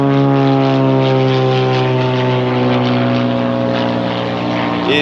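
A propeller airplane drones loud and steady overhead in a Venice Beach neighborhood, its engine tone holding throughout with no break.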